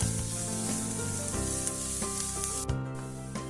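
Onion, ginger and green chilli sauté in a pan with a steady, close sizzle that carries on throughout, while music plays in the background.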